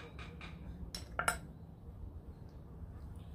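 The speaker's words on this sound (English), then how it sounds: "So you can just peel it off like that with a spoon as well." A spoon scraping gel from an aloe leaf, a few short scrapes and light clinks against a dish in the first second and a half, then quiet room background.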